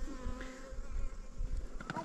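Bees buzz in a faint, steady drone outdoors at a nomadic camp, a soft continuous hum with a few louder passes near the end.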